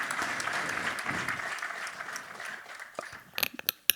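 An audience at an awards ceremony applauds, a sustained wash of many hands clapping that thins out after a few seconds into scattered individual claps.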